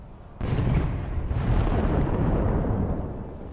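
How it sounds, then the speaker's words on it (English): Russian tanks explode in a sudden, heavy blast that swells into a sustained, loud roar of deep rumble and debris, holding for several seconds before slowly easing. "The Russian tanks explode."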